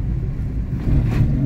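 A car's ABS unit working during braking while driving at low speed, heard as a steady low mechanical rumble and buzz with a slight surge near the end, close and fairly loud.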